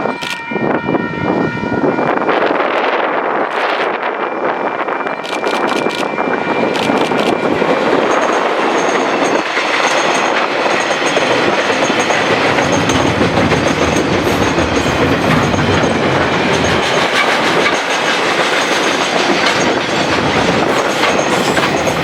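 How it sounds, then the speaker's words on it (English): KiwiRail diesel locomotive DL9037 hauling freight train 491 from Kinleith to Mount Maunganui, passing close with loud continuous rumble, rhythmic wheel clatter over rail joints and brief high squeals, a horn-like tone sounding early on. "This time she was hauling train 491 from Kinleith to Mount Maunganui."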